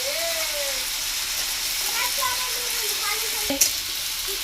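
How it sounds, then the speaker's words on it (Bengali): Onion and green chili fry in oil in a pan in a village kitchen, giving a steady soft sizzle throughout, with faint tonal background sounds and a brief clatter near the end. "পেঁয়াজটা হালকা ভাজা হয়েছে"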